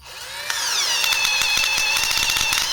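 A repaired cordless drill-driver spins up close and alone, its motor whining with a rising pitch that settles into a steady high tone for a couple of seconds.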